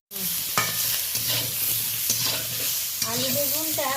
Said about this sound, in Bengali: লবণগুলো দেওয়ার পরে আলু বেগুনটা বেশ ভালো করে 2-3 মিনিট ধরে নাড়াচাড়া করে নেব।